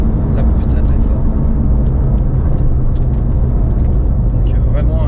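Porsche 997 GT2 accelerating hard, a steady loud engine roar from inside the car holding a constant drone, with someone talking over it.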